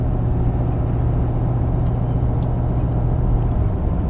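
Cabin drone of a 2019 Ford pickup with the 6.7L Powerstroke diesel cruising around 46 mph, a steady low engine hum that eases slightly near the end as the transmission shifts into 5th gear.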